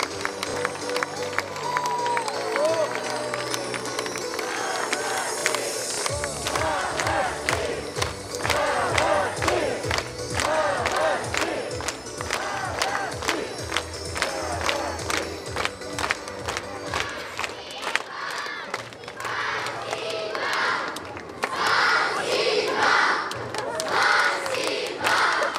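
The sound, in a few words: audience applauding and cheering a children's choir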